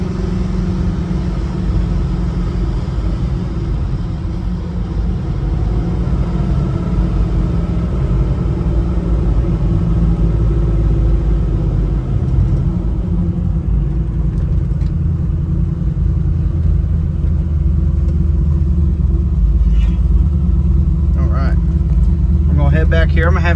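A 1969 Chevrolet Nova SS rumbles steadily as it drives, a loud, constant low engine drone under people talking throughout.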